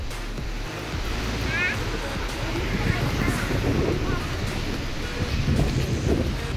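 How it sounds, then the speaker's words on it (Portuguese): Strong wind gusts across a cloudy beach at Praia Gravatá in Navegantes, roaring against the microphone over the steady wash of surf. The noise is continuous and fairly loud throughout, with no clear speech. "ventando bastante."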